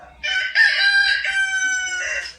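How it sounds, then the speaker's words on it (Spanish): A rooster crows once, loud and close, a long sustained cock-a-doodle-doo heard on its own with no talk. "gallo."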